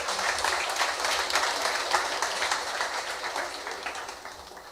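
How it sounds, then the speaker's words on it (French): Sustained audience applause fills a French company award ceremony, a dense, steady wash of many hands clapping at even loudness throughout, with no voices over it. "avec vos applaudissements, s'il vous plaît"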